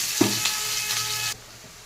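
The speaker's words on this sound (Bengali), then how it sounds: "পেঁয়াজটা দেখতে পাচ্ছেন খুব ভালো করেই ভাজা হয়ে গেছে" Chopped onions with black cumin seeds frying in oil for a fish curry, a close, steady sizzle with a couple of light stirring knocks before it drops away abruptly.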